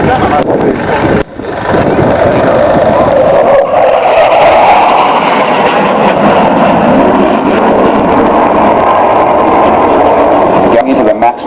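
An F-111 swing-wing jet with afterburning turbofan engines flies a maximum-rate turn at an air show, wings swept forward, producing a loud, continuous roar that swells and holds throughout, with wind buffeting and an announcer talking over it.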